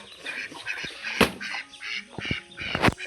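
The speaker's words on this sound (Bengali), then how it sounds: "এই যে হাঁস, হাঁসের বাচ্চা, এগুলো দেশি হাঁসের বাচ্চা" Domestic village ducks and ducklings quack nearby in a string of short, nasal calls, with a couple of louder honking quacks standing out over quiet rustling.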